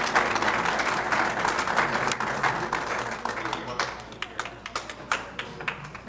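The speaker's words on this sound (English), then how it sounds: "give them another round of applause" Audience at a police awards luncheon applauds steadily, the dense clapping thinning toward the end into scattered individual claps, with some talk mixed in.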